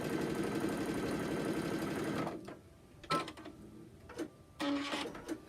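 A sewing machine runs steadily for about two seconds, stitching a quarter-inch seam to seal a rice-filled microwaveable handwarmer, then gives a few short separate bursts as the stitching stops and restarts.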